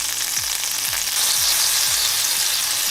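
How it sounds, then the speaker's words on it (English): Frozen oil cubes dropped into a hot skillet, hissing and sizzling loudly and steadily at close range, with soft rhythmic low knocks underneath. "Then anytime you need to add them to a recipe, you can just add them to your skillet."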